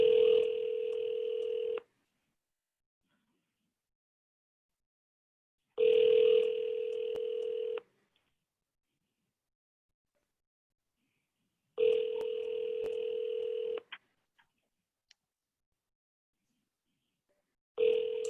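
A telephone rings in long, evenly spaced bursts about every six seconds during live phone dialing, each electronic double-tone ring loud and clear with silence between.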